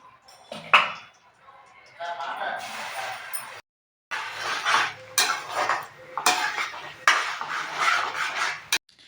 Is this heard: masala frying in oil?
yes